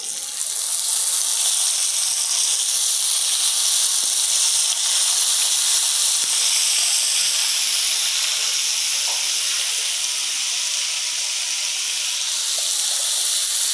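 Chopped eggplant hits a hot pan with onion and peas, giving a steady, loud frying hiss that holds evenly throughout with no talking.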